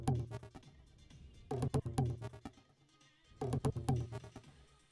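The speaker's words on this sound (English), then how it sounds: "there's some toms which sound like this" Tom drums sitting in a full music mix, sounding as repeated bursts of deep, resonant hits in short rolling fills, separated by quieter stretches of sustained background music.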